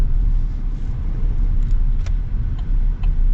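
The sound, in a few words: 2025 GMC Sierra 1500 four-cylinder pickup truck engine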